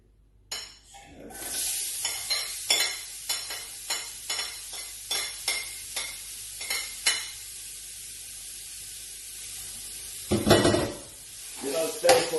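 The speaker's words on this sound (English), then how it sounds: "Now I'm gonna put my chopped onion, garlic, chili." Chopped onion, garlic and chili hitting a hot pan for a spring roll filling, a hiss of frying under a dozen quick, evenly spaced spatula scrapes and clinks, close and fairly loud, with a louder burst of stirring near the end.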